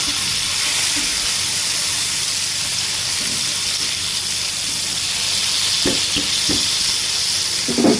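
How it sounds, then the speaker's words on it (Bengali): Pangasius fish sizzles loudly and continuously in hot oil, with a few soft clinks near the end. "এখন এই পাশটা আমি ভালোভাবে ভেজে নেব"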